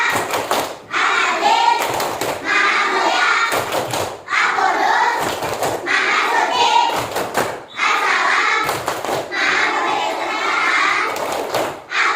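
A class claps along to the Tepuk 5 Asmaul Husna chant, with loud rhythmic groups of clapping hands that alternate with children chanting in unison, close and energetic.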